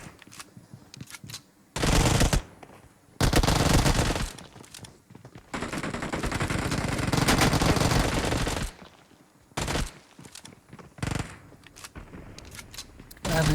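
Bursts of rapid Uzi submachine-gun fire in a PUBG Mobile battle, loud repeated volleys of varying length separated by short pauses, with a long sustained stretch of shooting in the middle.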